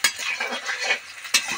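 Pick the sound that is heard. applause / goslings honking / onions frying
onions frying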